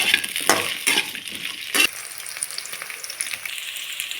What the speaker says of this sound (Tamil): இதை நல்லா வறுத்துடலாம் இதில் இருக்க இந்த பிசு பிசுப்பு இருக்கும் இல்லையா வள வளன்னு அது போகிற வரைக்கும் நல்லா ஃப்ரை பண்ணிவிடுங்க